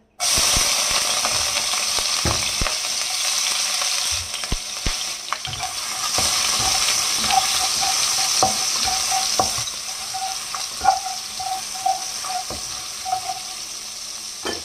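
Ginger sizzling and frying in a pan, with a steady hiss throughout and scattered scraping and stirring clatter from a utensil, close and fairly loud.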